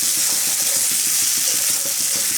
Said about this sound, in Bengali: মশলাটা খুব ভালো করে কষিয়ে নেব আমি।